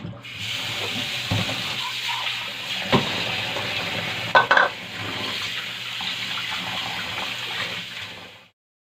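Tap water runs steadily into a sink while raw chicken is rinsed for tinolang manok, a broad continuous splashing stream with a few louder sloshes midway before it stops near the end.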